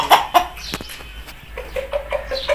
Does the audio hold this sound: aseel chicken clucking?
yes